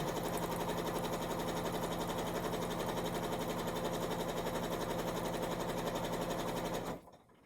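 A sewing machine runs steadily and loudly stitching quilt-as-you-go pieces down toward a pin, its rapid even whirring continuing for several seconds before stopping abruptly.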